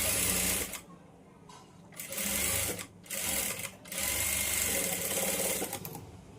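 Sewing machine stitching the lining of a blouse, running in several bursts of rapid mechanical whirring separated by brief pauses, close and steady with no talk.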